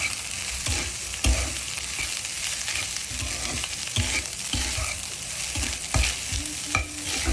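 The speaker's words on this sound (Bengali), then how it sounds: "তারপর আমি যে রাইসটুকু নিয়েছিলাম সেই রাইসটুকু আমি ভেজে নিচ্ছি।" Cooked rice being stir-fried in a pan, steady sizzling broken by repeated scraping and tossing knocks of the spatula at an irregular rhythm, close and alone without talk.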